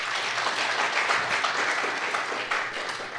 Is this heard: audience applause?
yes